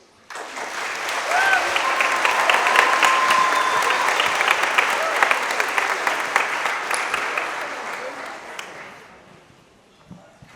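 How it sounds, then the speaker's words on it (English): Audience at a middle and high school concert bursts into sustained applause that builds quickly, holds steady and tapers away near the end, with no voices over the clapping. "Please welcome them with a big round of applause"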